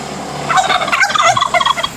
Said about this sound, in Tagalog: May pabo sila.